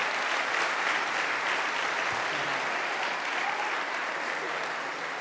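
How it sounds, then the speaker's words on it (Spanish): Sustained audience applause for professional performing artists at a Catholic parish gathering, a dense, steady wash of clapping hands holding at an even level for the whole stretch. "Un aplauso a esos artistas profesionales."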